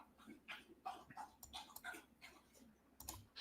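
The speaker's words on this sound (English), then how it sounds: "Slurpy dog." A dog drinking, with faint, close, rhythmic wet lapping and slurping ticks in quick succession over a quiet room.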